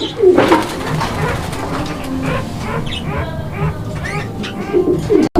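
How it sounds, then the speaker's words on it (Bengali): Kokka fancy pigeons coo in repeated low, throaty calls over steady background noise, fairly close and moderately loud throughout. "কোকার ডাক হ্যাঁ অবশ্যই কোকার ডাকটা চমৎকার"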